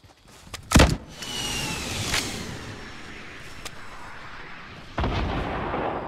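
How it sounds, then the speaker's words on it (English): Gunfire in the Fortnite battle royale video game: a sharp close burst near the start, then scattered single shots and a louder volley near the end, over steady in-game ambience. "Yep, getting shot at."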